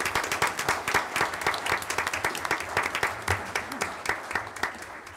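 A room at a city board of mayor and aldermen meeting breaks into a steady round of applause, with dense overlapping claps at an even level throughout and no speech over them.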